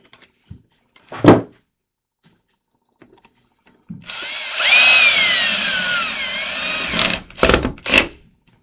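A cordless power drill drives screws into a commercial door lever mounting plate, a sustained whirring run of about three seconds followed by short bursts, preceded by a few light taps and knocks.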